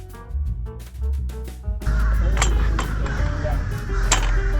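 A group of crows gives several harsh, repeated caws close by on a Gulf coast island, then the calls continue more sparsely over louder, rushing outdoor noise.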